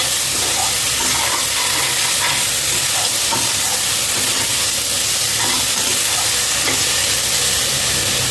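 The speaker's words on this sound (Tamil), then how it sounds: "சேர்த்து நல்லா வதக்கி கொடுங்க" Spiced food with chili powder and garlic sautéing in a pan, a loud, continuous sizzle with faint scraping stir strokes and no voices.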